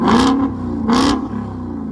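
A Ford Mustang GT 5.0L V8 with an MBRP exhaust revs loudly twice, each blip rising sharply and falling back to a deep, throaty idle rumble, close to the microphone with no talk.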